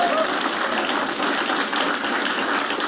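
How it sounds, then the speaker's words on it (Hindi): Close, lively clapping from the audience at a stand-up comedy show, a dense steady burst with voices mixed in under the applause. "तो एक बार तालियां।"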